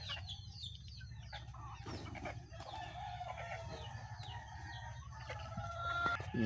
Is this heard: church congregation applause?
no